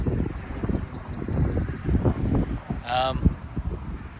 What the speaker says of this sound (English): so very, very windy